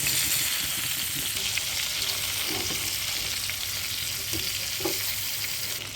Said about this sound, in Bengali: আমি চুলার আঁচটা মিডিয়াম রেখে কিছুক্ষণ ভালো করে ভেজে নেব